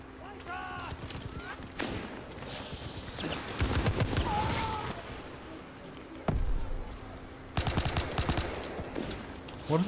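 Low-recoil gunfire in Call of Duty: WWII, several loud bursts of rapid automatic shots separated by pauses, mixed with game ambience and a player talking over it.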